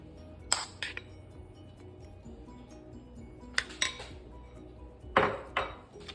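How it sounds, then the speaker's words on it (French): Utensils stir pasta salad with vinaigrette in a bowl, giving soft faint clinks and scrapes in three spaced clusters, close and quiet, with no talking. "On va venir la mélanger au reste de notre salade."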